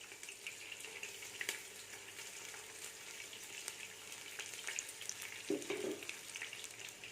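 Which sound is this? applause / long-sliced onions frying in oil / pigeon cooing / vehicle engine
long-sliced onions frying in oil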